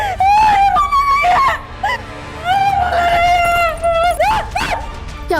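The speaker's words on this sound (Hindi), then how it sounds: "क्यों चिल्ला रही इतनी जोर जोर से?" A woman screams loudly in a dramatized domestic scene, giving long, piercing, wavering cries close up. The cries break off and then resume, with gasping whimpers between them.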